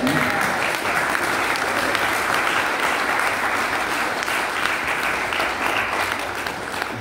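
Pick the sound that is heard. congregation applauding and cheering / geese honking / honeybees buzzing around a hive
congregation applauding and cheering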